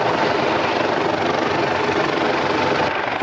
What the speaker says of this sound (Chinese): 中南空勤直升机出发执行任务